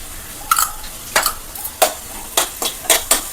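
Rava (semolina) sautéed in ghee, stirred with a spoon in a pan, giving a series of short scraping, rustling strokes about every half second over a soft sizzle, close and clear with no talking.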